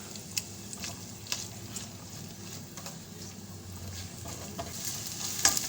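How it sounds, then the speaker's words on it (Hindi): Chopped onion sautéing in a pan with garlic and ginger gives a soft, steady sizzle with light stirring scrapes, quiet and continuous, with no voices. "तो अब मैं इसमें एक छोटी दरमियानी प्याज जो है वो चॉप करके डाल रही हूँ।"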